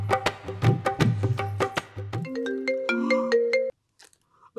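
A phone chimes with a short melodic ringtone while a call is being placed, after some crunching, then stops abruptly into near silence.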